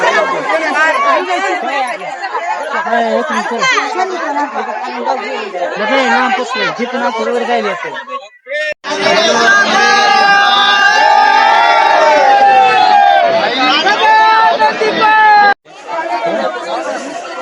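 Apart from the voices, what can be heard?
crowd at Tuljabhavani temple, Tuljapur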